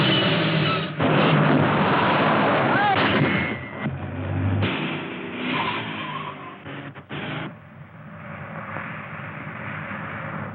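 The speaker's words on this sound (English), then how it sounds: "There's a car following her." Car chase in a radio drama, with gunshots, skidding tyres and a roaring engine in a loud, chaotic burst that fades into a quieter rumble toward the end.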